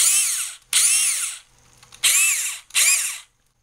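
Cordless 7.2 volt single-speed 700 RPM drill whirring under load in three loud, close bursts, each with a rising then falling whine and short gaps between.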